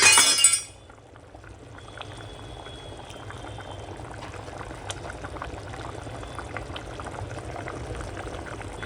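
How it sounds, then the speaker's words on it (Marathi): Water with ghee and coriander boiling in a pot for veg pulao, a steady bubbling simmer after a short louder clatter at the start, with no talking. "आता उकळी चांगली आली आहे."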